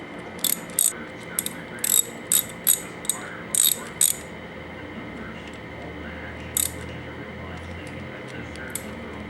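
A ratchet clicks in short bursts while bolts are hand-tightened on a Yamaha R6 camshaft, several quick runs of clicks close by, then a pause and one last burst.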